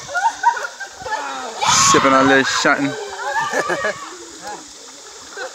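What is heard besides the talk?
creek water splashing during a chicken fight in the water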